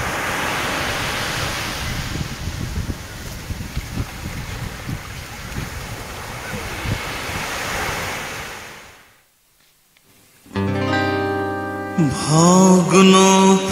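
Wind and sea sound effect played during a school Parents' Day stage play: a continuous rushing, surf-like roar of wind and waves that fades to near silence, followed by a burst of music.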